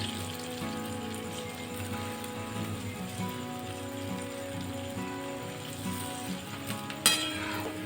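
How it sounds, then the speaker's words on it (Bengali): Palm fruit fritters (taler bora) fry in hot oil in a village kitchen, giving a steady soft crackling sizzle throughout with one brief clink near the end, no talk. "দিকটা ভাজা হলে অপর দিকটা উল্টে দিতে হবে"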